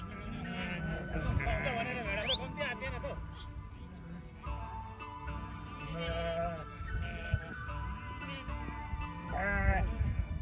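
Sheep bleat again and again as a flock runs toward a salt-lick stone on a hillside sheep farm; loud, overlapping calls sound close by, with a voice talking over them.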